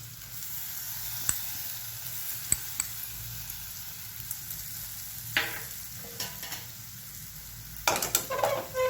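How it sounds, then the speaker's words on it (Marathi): Ground garlic, green chilli and peanuts sauté in a pan for methi bhaji, a soft steady sizzle broken by sharp clinks of a spoon against metal and louder stirring scrapes toward the end. "लसूण, हिरवी मिरची आणि शेंगदाणे आपण वाटून घेतलेले आहे, ते चांगले परतून घ्यायचे आहे"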